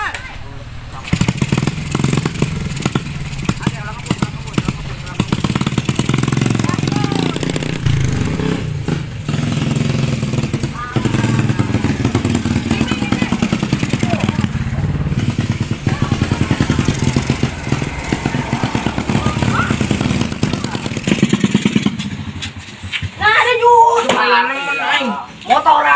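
A stalled motorcycle that will not start, its engine sputtering and dying amid clattering and knocks, heard up close for most of the time, with people talking and arguing over it near the end.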